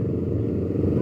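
Motorcycle fitted with a Lingga exhaust on a group night ride, giving a close, steady low engine rumble that stays constant through the brief moment.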